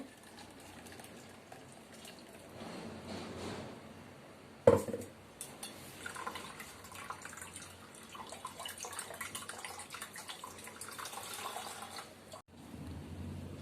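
Ground green chili, ginger and curry leaf paste is poured into a vessel while making neer mor, the spiced buttermilk drink. It gives a faint, steady liquid pour with a sharp clink partway through and no talking.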